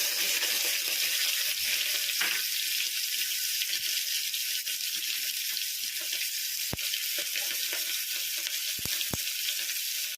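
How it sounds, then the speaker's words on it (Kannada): Onions frying with salt and curry leaves in a pan, an unbroken loud sizzle close by, with a few sharp clicks of a utensil against the pan. "ಆಗ ಈರುಳ್ಳಿ ಬೇಗ ಫ್ರೈ ಆಗುತ್ತೆ, ಕೆಂಪನೆ ಬಣ್ಣಕ್ಕೆ ತಿರುಗುತ್ತೆ."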